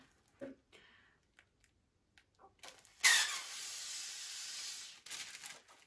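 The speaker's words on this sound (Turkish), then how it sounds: "Şişirmeye başlayalım. Bu tatlış balonları." A balloon being inflated, probably with a hand pump, for New Year's decorating at home: a steady airy hiss of about two seconds, preceded by faint clicks and rustles and followed by a short burst of squeaky air.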